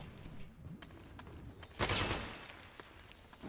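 Gunfire in Metal Gear Solid 4, a scatter of faint, quick shots with one louder burst in the middle, set against low game background noise.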